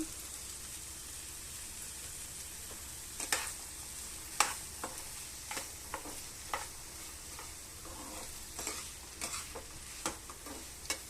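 Boiled chickpeas cook in a pan for a breakfast dish, giving a soft steady sizzle with scattered sharp clicks and stirring scrapes at close range, no voices.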